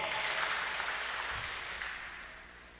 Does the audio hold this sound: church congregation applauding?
yes